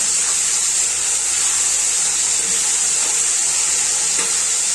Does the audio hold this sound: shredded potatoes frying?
yes